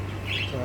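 A short burst of budgerigars chirping in a small aviary, a bright high tweet over a low background hum.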